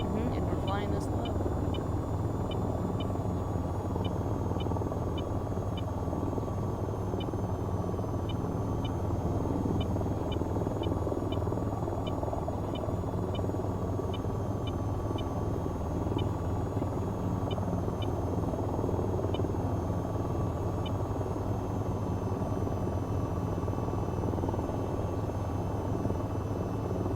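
A video-game helicopter flies low with a steady, droning rotor and engine hum that holds evenly throughout, with faint voices in the background.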